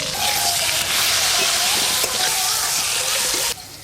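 Potatoes frying in hot mustard oil, giving a loud, steady broadband sizzle that hisses continuously for a few seconds and then drops off abruptly.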